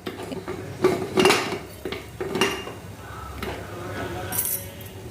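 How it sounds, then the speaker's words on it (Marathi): A few sharp metallic clanks and clatters of a pressure cooker lid being set and locked onto the cooker, with soft background noise between the knocks. "कुकरचं झाकण लावून द्यायचं"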